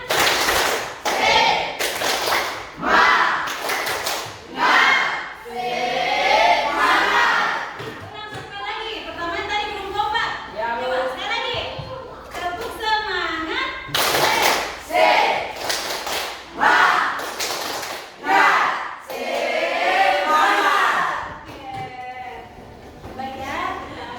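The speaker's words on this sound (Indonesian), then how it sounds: "Coba tepuk semangat." A school class does a rhythmic spirit clap together, rounds of sharp group claps and thumps mixed with the children's chanting and shouting voices, loud and close in a classroom.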